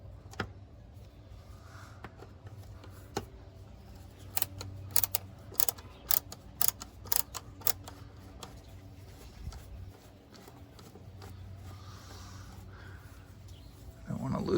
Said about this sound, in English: just take these screws out